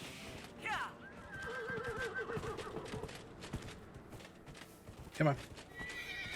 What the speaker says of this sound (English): So let's go ahead and call the horse, because this area is massive.